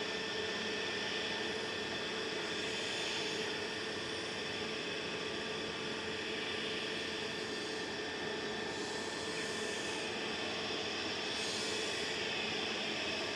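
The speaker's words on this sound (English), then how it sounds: "This is an A320neo heading off to Malta." An EasyJet Airbus A320neo takes off from Manchester Airport for Malta, a broad steady jet roar heard from a distance and holding level throughout.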